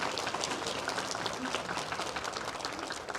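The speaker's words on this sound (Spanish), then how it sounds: "Desen un aplauso bien fuerte." Church congregation applauds loudly and steadily, a dense wash of many hands clapping that carries on without a break from start to finish.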